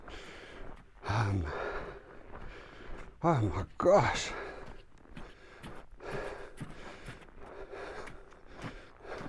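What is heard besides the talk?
loud breathing while walking in snow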